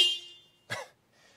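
The stock OEM horn on a Toyota GR Corolla gives a single short honk with a steady, buzzy tone that fades out over about half a second. A brief muffled thump follows, then a faint hiss.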